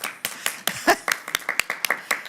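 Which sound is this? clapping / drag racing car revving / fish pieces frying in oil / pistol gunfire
clapping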